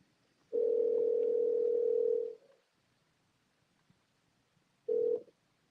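Telephone dial tone on a phone call being redialed after a dropped connection: one steady tone for about two seconds, then silence, then a second short burst of the same tone.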